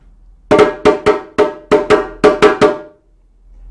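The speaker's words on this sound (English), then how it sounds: "That code sounds like this on the drum." A hand drum beating out a cue pattern that signals dancers to start, about nine sharp resonant strikes in an uneven rhythm, loud and close with no other sound.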